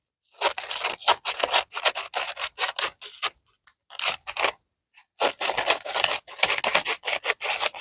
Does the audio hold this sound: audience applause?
no